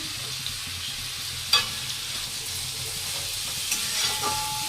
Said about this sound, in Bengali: তো পেঁয়াজটা ভাজা ভাজা হয়ে গেলে পরে